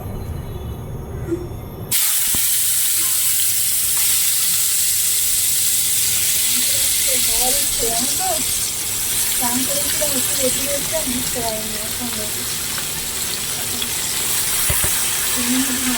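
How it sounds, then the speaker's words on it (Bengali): Cut radish and potato pieces frying in hot oil, a steady close sizzle and hiss that swells suddenly and holds loud, with faint scattered clinks and stirring underneath. "মুলো আলু কেটে নিয়েছি ভাজবো আর একটু তেল গরম করে নিয়েছি"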